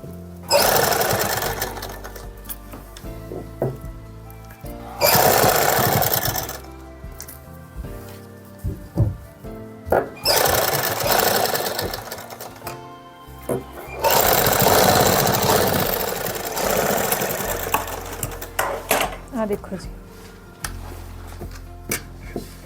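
Sewing machine stitching the neckline of a women's suit in several long runs, loud and close, broken by pauses with clicks and fabric handling.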